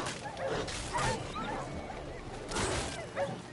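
A dog barks and yips in the Witcher 3 video game, two bursts of yelping about two seconds apart over a busy, noisy game background.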